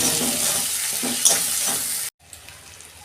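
Sliced onions sizzle loudly in a pan with a little salt while being stirred for a potol chingri curry, a dense crackling hiss that cuts off abruptly and returns more quietly.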